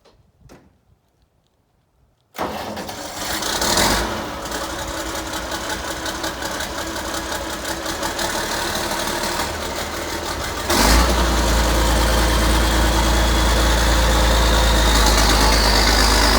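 A Massey Ferguson 1105 tractor engine cranks and catches after about two seconds of near silence, then settles into a loud, steady idle that deepens into a heavier, lower rumble partway through.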